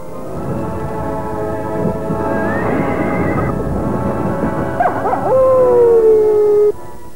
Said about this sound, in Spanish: el lobo aúlla a vuestros pies